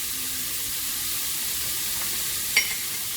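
Vegetables sizzle in a hot skillet as a broad, steady hiss that stays even throughout, with one brief clink of a utensil near the end.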